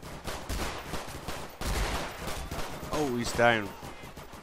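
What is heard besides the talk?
gunfire in the video game Garry's Mod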